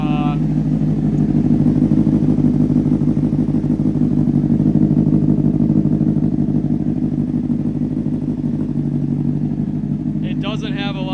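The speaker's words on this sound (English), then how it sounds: "I'm doing another heat cycle for the motorcycle" A straight-piped, rebuilt Honda CBR 600RR motorcycle engine runs steadily and loud throughout, a deep throaty drone with a brief rise near the end.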